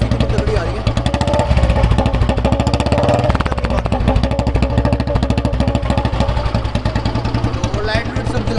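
A restored 1983 Royal Enfield Bullet single-cylinder motorcycle idles up close, loud and thumping in a fast even rhythm, with a brief rev near the middle and someone talking over it.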